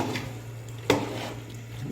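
A lid is set down on a cooking pot of carrot vegetable curry, giving a single sharp metallic clack near the middle, close and clear over a steady low hum.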